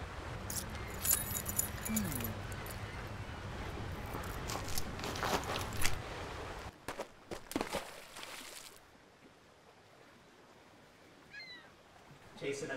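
Keys jangling in a tense indoor scene, a busy metallic rattle mixed with footsteps and movement for several seconds before the noise drops away to a quiet room, with brief voices during the commotion.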